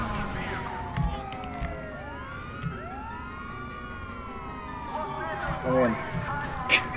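Wailing, sweeping emergency siren from an ambulance in GTA V, rising and falling over a busy game soundscape while players talk over it.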